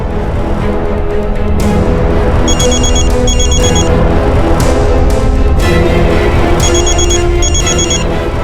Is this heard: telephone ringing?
yes